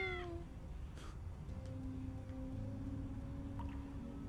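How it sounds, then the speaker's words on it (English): A cat meows in the video game Tales of the Neon Sea, giving a short, fairly quiet meow at the start and a fainter call later, under a low steady hum of background music. "Oh, you've taken up a cat as well."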